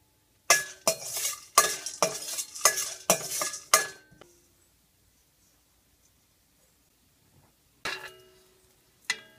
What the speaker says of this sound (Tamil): இப்போ எள்ளு நல்லா வறுத்தாச்சு